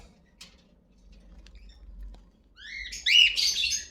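A breeder pair of blue pastel splitino lovebirds gives a quick burst of high, bright chirps near the end, after a quiet stretch with only a faint low hum.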